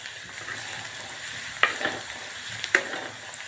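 Ginger, garlic and onion sauté in a pan for a paneer and amaranth-leaf curry, giving a steady soft sizzle with a few sharp stirring clinks and scrapes, close and fairly quiet.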